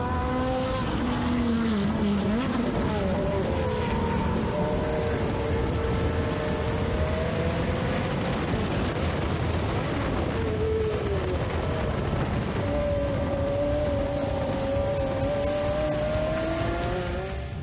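A loud Ferrari F430 sports car is driven hard at the ICAR track complex, its engine snarling, revving and shifting over a long stretch. The sound is close and constant, with light tire squeal and no talking.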